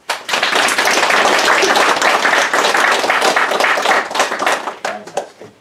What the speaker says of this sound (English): Can we have a round of applause for our helper?